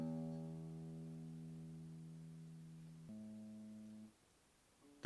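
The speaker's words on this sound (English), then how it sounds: "the 6th string, is called the low E" A guitar's low E sixth string rings out alone in a quiet room, a sustained harmonic tone slowly decaying, then a second note briefly sounds before it's damped, ending with a small pluck.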